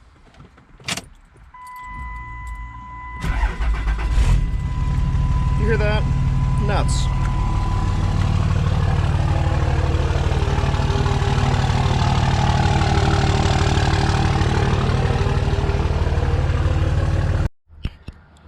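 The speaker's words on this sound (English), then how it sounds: "And this thing fires right up." Dodge Cummins diesel pickup truck, a rollover wreck being rebuilt, cranks and fires up, then settles into a loud, steady, rumbling idle that runs for about fourteen seconds before cutting off; someone speaks briefly beforehand and some keys jingle.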